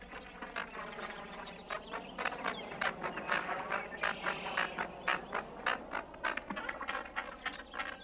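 A busy chorus of American coots calling during their mating ritual in a marsh, with sharp repeated clucks and splashy chatter crowding together, fairly close and continuous.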